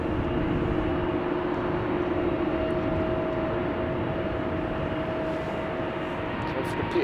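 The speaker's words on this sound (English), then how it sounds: "Let's see something having taken off from runway 24, 777 to Calgary." A Boeing 777 takes off from runway 24 at Schiphol airport, heard as a steady, broad jet engine roar with a sustained tonal hum, loud and continuous throughout without fading.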